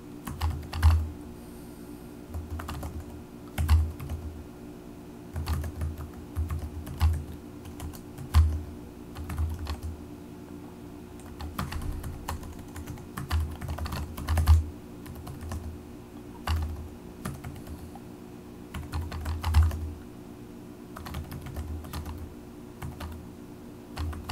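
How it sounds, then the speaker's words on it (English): Steady keyboard typing, a run of quick clicking keystrokes with brief pauses, close by over a low constant hum, no voices. "Just be careful as you're typing. Make sure you're typing it correctly."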